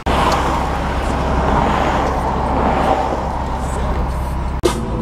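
A Toyota Celica's engine runs steadily up close, a loud continuous rumble with a faint knock near the end.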